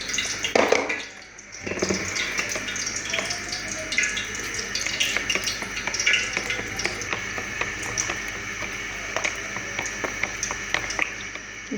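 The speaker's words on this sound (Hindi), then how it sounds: "अब मैं इसे अच्छे से मिक्स कर लूँगी" Gram flour whisked into lassi for kadhi pakora: a wet, sloshing swirl with a quick run of light spoon clicks against the bowl, close and continuous, with no talking.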